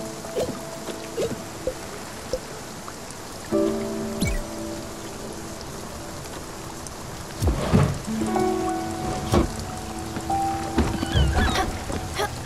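Steady rain falls in the video game Spiritfarer during a fishing scene, a continuous hiss broken by occasional louder splashes and thuds from the game, with no talking.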